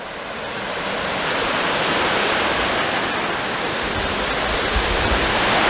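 A waterfall heard from close below, a loud steady broadband roar of rushing water that swells slightly and holds without a break, no voices.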